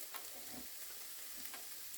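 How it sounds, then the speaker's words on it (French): Panini bread with cheese starts to grill in a pan, giving off a quiet, steady sizzle and crackle with a few soft pops and clicks scattered throughout. "Ça commence à griller"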